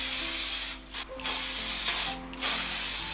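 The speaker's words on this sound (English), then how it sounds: "I'm just going to spray them with a little bit of hairspray." Hairspray is sprayed onto finished curls in a few short close hissing bursts, separated by brief pauses.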